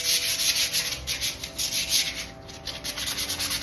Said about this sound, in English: I gotta sand them with 180 grit